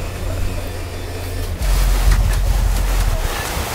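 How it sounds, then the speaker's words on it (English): Loud, roaring 40-knot wind gust buffets the microphone aboard a hybrid electric catamaran, surging sharply partway through into a heavier, sustained blast with low rumbling turbulence. "That's a big gust."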